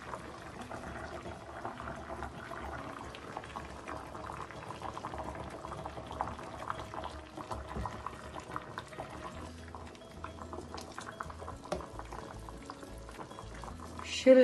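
Hake boiling in a pot for a Galician-style dish, a steady bubbling simmer that runs throughout at a moderate level with no voices.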